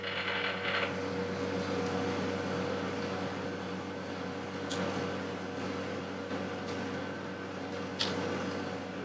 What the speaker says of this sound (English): I'll just put it into back gear. So this is now the slow speed this machine runs at